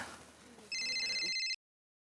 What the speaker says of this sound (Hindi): बबीता जी बार बार मुझे फोन कर रहे हैं अयर भाई के साथ बात करने के लिए।